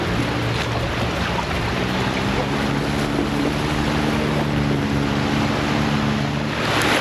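A boat ride off Pranburi, Thailand, with steady wind buffeting and waves rushing against the hull, an engine drone humming low beneath the continuous broadband noise.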